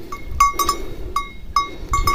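A goat with a teat problem gives several short, nasal bleats close by, coming in quick pairs and singles with brief pauses between them, over faint farmyard background noise.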